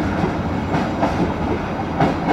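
A passenger train rumbles steadily past close by at a station, a loud continuous roar of wheels and engine with faint rhythmic clatter.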